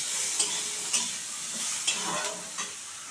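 Egg and cabbage fry in a pan under a steady bright sizzle while a spoon stirs them, with a few sharp scraping strokes spaced about half a second to a second apart. The sound is close and clear, with no voices.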